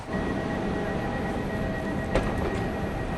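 A train rumbles steadily nearby, with a faint high whine running through and a brief clatter near the end.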